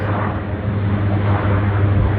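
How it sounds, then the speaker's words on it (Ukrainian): A huge military-looking training aircraft passes overhead near a training base in hot summer weather, its steady, loud engine drone filling the whole stretch without a break. "над нами летить величезний літак"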